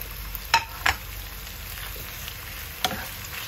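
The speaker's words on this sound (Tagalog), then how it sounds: "Gisa-gisa, isote-isote yung chicken strips." Chicken breast strips and plenty of sliced onions sauté in a pan with a low, steady sizzle, broken by a few sharp clinks of a utensil striking the pan.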